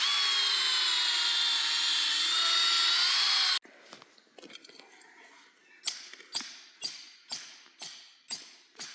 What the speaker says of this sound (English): I'm gonna drill a bait hole